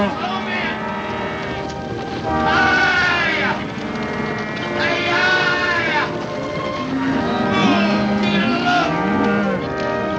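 Cattle mooing in a 1950s western film scene, several long drawn-out lows rising over a busy mix of talk and background noise, with more mooing and bleat-like calls trailing into the final seconds.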